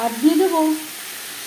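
Spice-rinsing water hits a hot pan of frying Bengali fish curry with chilli powder, giving a steady close sizzle that starts under a short spoken phrase and carries on alone.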